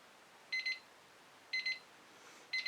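A kitchen timer alarm beeps in three evenly spaced double bursts, sharp and electronic, sounding alone in a quiet room during an acrylic painting session.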